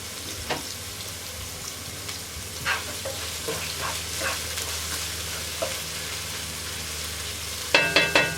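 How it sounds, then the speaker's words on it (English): Onions and garlic sizzle steadily in a pan for a tuna bake, a constant soft frying hiss with occasional spatters and a few utensil clicks near the end, no talking. "So I've just got my onions and my garlic cooking in that pan"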